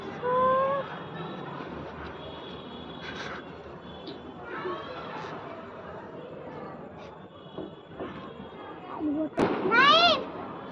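Firecrackers and small fireworks bursting at a nighttime celebration, a few sharp pops early and a louder crackling cluster near the end, with whistling streaks and people chattering throughout.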